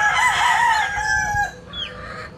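A rooster crows loudly at close range in a backyard, its long call breaking off after about a second and a half, followed by a brief cluck from a nearby chicken.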